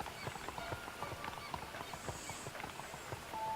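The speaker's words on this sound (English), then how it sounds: "look at that, twins on horses" Horse hooves clip-clop steadily in the Red Dead Redemption video game as riders pass, a quick, regular rhythm of close, moderately loud hoofbeats with faint background ambience.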